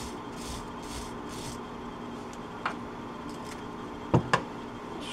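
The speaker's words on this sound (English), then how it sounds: "Scrape it down a little bit here." Old powdery material is scraped off a string line mower part in quiet, close rasping strokes, with a couple of sharper scratches and knocks toward the end.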